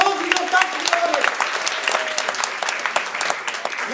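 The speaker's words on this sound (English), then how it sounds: "Give him a round of applause and go back to the audience." An audience at a mentalism stage show breaks into applause, a dense, moderately loud patter of clapping that slowly thins, with a voice talking over it.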